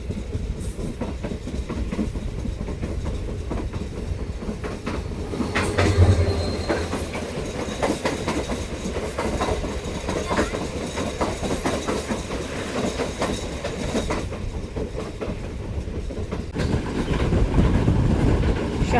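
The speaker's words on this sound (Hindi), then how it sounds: "ये छोटी सी ट्रेन आपको जो दिख रही है ये है मेहरान एक्सप्रेस 150 डाउन" Mehran Express 150 Down passenger train rolling past on the Karachi–Lahore line, a loud continuous rumble with rhythmic clickety-clack of wheels over rail joints and occasional wheel squeal, heard up close for the whole stretch.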